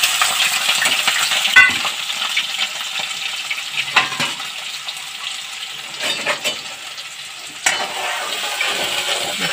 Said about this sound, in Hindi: सब्जी फ्राई कर ले